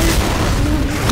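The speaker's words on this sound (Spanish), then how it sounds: "¡Bomba casera!" A pipe bomb explodes in the game Left 4 Dead 2, a single loud, heavy boom that fills the whole moment with a rumbling blast and no voices.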